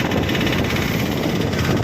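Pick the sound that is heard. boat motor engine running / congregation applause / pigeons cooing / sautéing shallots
boat motor engine running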